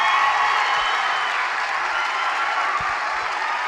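Crowd at a boys' varsity high school basketball game in a gym, applauding and cheering steadily during a timeout, a dense sustained wash of clapping and voices.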